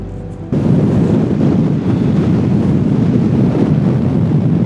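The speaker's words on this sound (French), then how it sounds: "comme tu l'entends dans le micro, ça souffle" Heavy mountain wind near a lake in the Queyras buffets a microphone, a loud continuous low rumble and roar that starts abruptly and persists without letting up.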